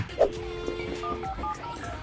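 Old telephone dialing tones in a K-pop music video, a short run of steady beeping tones heard over a music backdrop.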